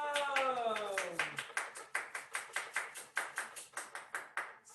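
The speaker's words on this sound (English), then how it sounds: "give yourselves a round of applause." Applause from the audience at a Global Dignity Day gathering: a singing voice trails off at the start, then loud, regular rhythmic clapping in a steady beat carries on to the end.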